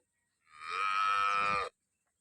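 A single long, loud cow moo with a rich, harmonic tone, lasting just over a second and standing alone against silence, from a horned cow.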